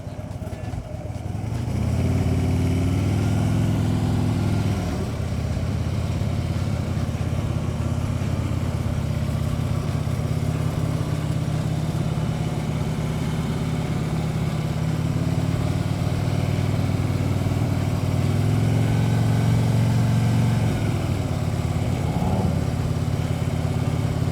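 A motorcycle rolls through a slow-speed control exercise without rear brake, its engine a steady close mid-pitched drone holding low revs for the whole stretch, no talking.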